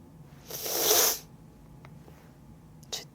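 A single close sneeze bursts out sharply and fades quickly, followed by quiet room tone and a few faint rustles.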